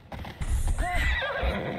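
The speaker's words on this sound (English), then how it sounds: "I need to take this horse either to Adonis or to the stable boy" A horse in the video game Assassin's Creed Odyssey gives a loud whinny close by, layered over heavy hoof clip-clop and low rumbling, with the neigh rising and wavering through the middle of the clip.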